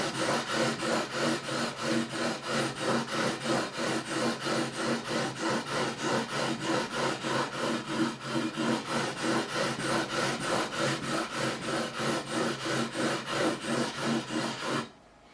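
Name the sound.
sanding guitar frets with 400 grit sandpaper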